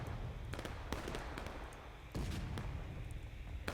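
Distant booming artillery and scattered gunfire crackle through a Civil War battle game at Pry Ford, Union and Confederate guns firing in irregular, overlapping reports against a steady rumble of battlefield noise.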